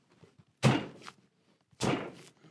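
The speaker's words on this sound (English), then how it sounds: "I take this ball and slam it a few times so I get a little wider" A heavy ball of clay, about 20 kg, slammed down twice on a potter's wheel, each a deep, close thud with a short dull tail, separated by about a second of quiet.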